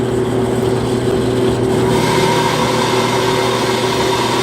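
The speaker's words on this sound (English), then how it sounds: "Now this is a hydraulic feed. I can adjust over there how much force and what speed." A metal cutting saw with a hydraulic feed runs slowly through cast iron, giving off a steady, even mechanical hum and drone that carries on without a break, fairly loud and with no voices.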